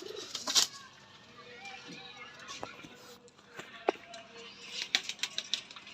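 A pair of teddy pigeons coo softly in a cage, with scattered faint coos, wing rustles and small clicks against low background noise.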